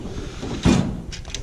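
A tool box drawer slides open with a short rolling rumble and a soft thud near the middle, followed by light metallic rattles. The sound is fairly close and no one speaks.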